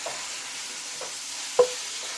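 Food frying in a pan gives a soft, steady sizzle, with a few light scrapes of a stirring utensil and one sharper clink, heard close up with no talking.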